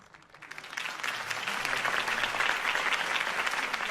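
Crowd applause swelling after a political campaign speech in a Batman video game, starting quiet and building within a second into steady, sustained clapping from a large audience.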